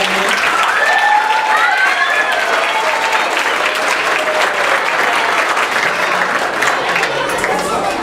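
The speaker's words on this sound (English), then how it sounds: "Let's give them one more round of applause." Loud, sustained audience applause at a school event, with cheering voices and crowd chatter mixed into the steady clapping.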